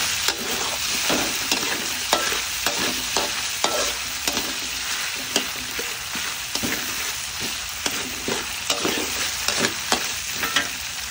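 Tofu sizzles and crackles steadily as it fries in hot oil in a pan, with occasional scraping taps of a utensil against it.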